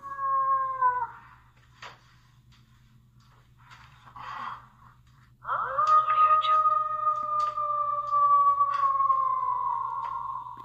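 Someone performs a wolf-howling impression, long sustained wavering howls ringing out with a noticeable echo trailing behind; a short howl opens, then quieter vocal sounds, then one loud extended howl fills the rest, with a steady low hum underneath.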